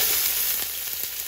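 Chopped onion frying in a thin coat of oil in a pan, a loud, steady close sizzle with a bright hiss and no talking.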